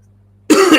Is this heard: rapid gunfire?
no